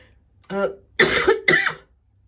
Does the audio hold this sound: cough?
yes